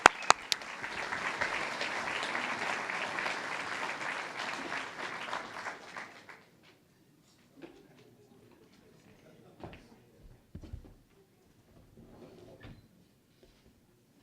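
An audience at a Rochester sustainable development event gives the governor a round of applause, loud and sustained clapping that fades out after about six seconds, followed by quiet room noise and a few faint thumps.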